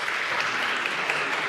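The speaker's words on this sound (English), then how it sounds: "So let's give him another round of applause." Audience applause fills a startup award ceremony for mobility ventures, a steady dense wash of many hands clapping, fairly loud and continuous with no voices on top.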